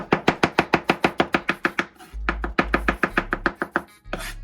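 Garlic is chopped with a knife on a board in quick, even strokes, each a crisp close knock, with a short pause near the middle and then more strokes; no voices.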